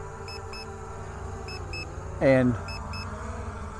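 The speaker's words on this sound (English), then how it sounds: "Now I'm getting double beeps." Faint paired low-battery beeps from a Hubsan Zino 2 Plus drone repeat over a steady hum, with a short voiced sound partway through.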